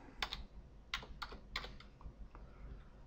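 Computer keyboard typing in short bursts of crisp clicks, several quick keystroke clusters with brief pauses between, close and clear with no talk.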